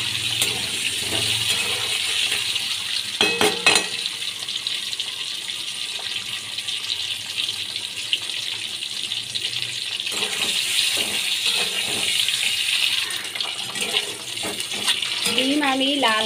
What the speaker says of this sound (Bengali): ডিমগুলোকে আমি ভেজে নিচ্ছি